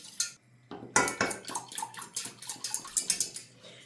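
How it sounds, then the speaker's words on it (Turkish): Egg, yogurt and lemon juice whisked together in a bowl for a chicken soup, giving a steady run of quick clinking, scraping strokes at close range with no talking. "Pürüzü kalmıyor diye çırpalım. Limonumuzu, yoğurdumuzu ve yumurtamızı."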